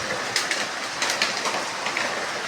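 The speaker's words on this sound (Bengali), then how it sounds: "সকাল থেকেই কি বৃষ্টি শুরু হয়ে গেল।" Rain falls steadily with a dense, even hiss and a few louder splashy surges. It carries on alone without any voices.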